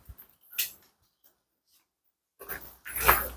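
A large dog makes a couple of short, close breathy huffs, with a brief sound early on and a louder burst toward the end, separated by near silence.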